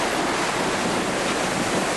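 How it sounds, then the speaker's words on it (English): Bow wave of a sailing yacht breaking as it surfs down big Southern Ocean swells, a steady, loud broadband rush of water and wind with no pauses, close to the microphone. "You can hear sort of the bow wave breaking, sort of fairly big sea running."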